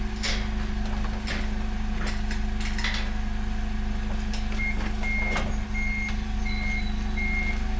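A forklift's reversing alarm sounds a steady run of evenly spaced electronic beeps over a constant low engine drone, joining partway through amid scattered clanks and knocks in a shop.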